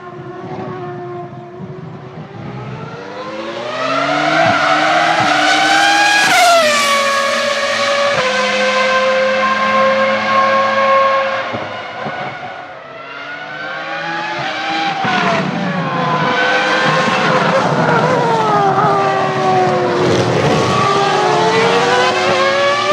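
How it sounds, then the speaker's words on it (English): A Formula 1 race car engine, one of the high-revving V12 or V10 era units, screams loud and near at full revs down a straight, pitch climbing and dropping through gear changes with no talk over it. "The cars would scream down the straight and put anything else to shame once at full revs, even the V12s."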